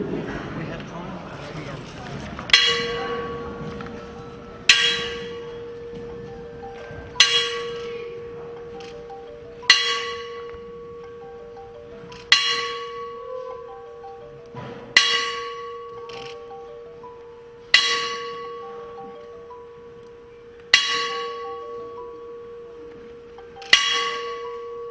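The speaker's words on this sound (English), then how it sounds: "We're going to toll the bell 10 times." A memorial bell tolls ten times at a boxing event, each clear ringing strike spaced about two and a half seconds apart and decaying slowly in a large hall.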